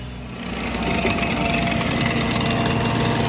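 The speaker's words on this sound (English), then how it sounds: "Right now we're just working on digging out the footer." Loud, continuous mechanical pounding and rattling, like a breaker or digging machine, churns steadily while a footer is dug out for a concrete-and-rebar retaining wall built with builder stone.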